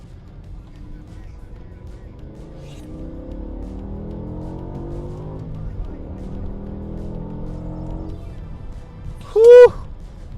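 A BMW E60 M5 with a V10 accelerates hard in fourth gear to about 6,500 rpm, heard muffled from inside as a rising, fairly quiet engine drone, followed by a short high chime.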